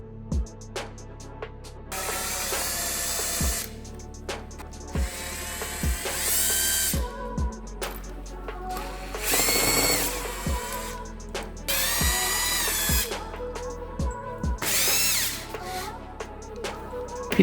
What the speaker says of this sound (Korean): 범퍼가 상하지 않도록 조심스럽게 먼저 피스를 하나하나 제거해 줬습니다.